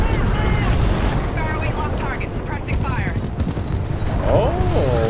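Heavy gunfire and battle noise from the video game Titanfall 2, with dense continuous shooting, mechanical whines and sweeping sci-fi effects, loud and close throughout, with voices mixed in.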